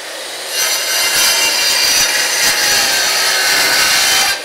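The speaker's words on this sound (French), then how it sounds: "il va falloir aller la découper à la scie à ruban." A band saw cuts through raw wood in a workshop, giving a steady, loud rasping buzz that runs continuously for a few seconds with no talking.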